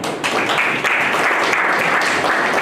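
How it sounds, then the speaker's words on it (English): Participants at an exhibition stall clap together in a loud, close burst of dense applause that stays steady for a few seconds without speech. "Just give a clap."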